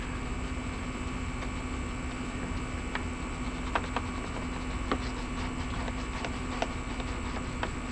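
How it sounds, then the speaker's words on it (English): A room air conditioner runs with a steady broadband hum and fixed tonal drone throughout, fairly loud and constant, with faint light taps over it and no talking. "Sorry about the AC, guys. I hope that's not too loud and too bothersome."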